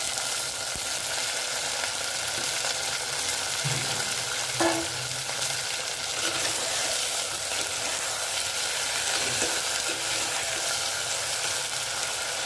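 Eggplant and egg sauté in a pan, producing a dense, loud, continuous sizzle with a few faint scrapes, close by and with no speech.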